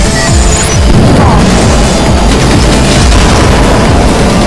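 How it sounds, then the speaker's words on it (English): Bomb weapon explosion in the Wipeout HD Fury racing game, a very loud heavy boom with crashing debris and roaring blast noise filling the whole moment close up. "Bomb."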